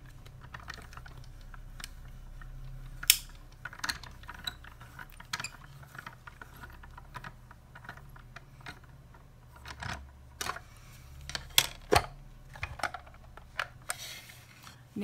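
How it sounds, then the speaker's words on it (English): Sizzix Sidekick die-cutting machine worked by its small lever, giving faint ratcheting clicks and mechanical ticks at an uneven pace in a quiet room, with no talking. "So we're using the Sizzix Sidekick, and it has a little lever."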